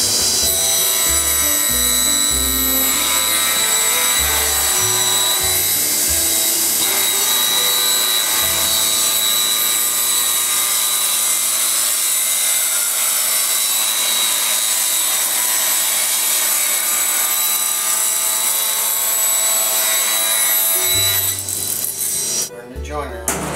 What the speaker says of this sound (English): We're going to rip this board to the desired width.